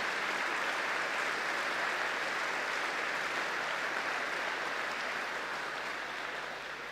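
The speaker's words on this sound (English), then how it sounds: "So I think we need to give this gentleman a big round of applause." Steady, dense applause from a tennis tournament crowd at the W100 Shrewsbury 2022 final presentation, an even wash of clapping that holds throughout and eases slightly at the end.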